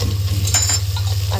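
A spoon stirs peeled tomatoes sizzling in a hot pan, a continuous close frying hiss with soft scraping strokes and no talking.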